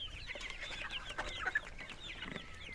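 A small young white hen, a chick about two months old, gives soft, quiet clucks and chirps, close but faint, with no voices.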